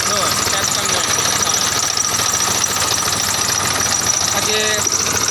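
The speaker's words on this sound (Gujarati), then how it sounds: "આ ટ્રેક્ટરનું એન્જિન છે" Tractor engine running loud and steady close by, a continuous chugging drone that dominates throughout while someone talks over it.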